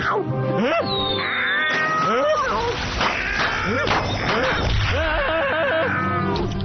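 An angry wet cat yowls and meows over and over in water, pitch swooping up and down, loud and close, with splashing and commotion throughout.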